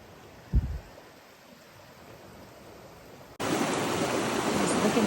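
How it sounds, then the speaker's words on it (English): A mountain creek along the Colorado Trail flows past, heard first as a soft distant hiss after a single thump, then swelling abruptly into a loud, close, continuous rushing of water. "man, this water's flowing"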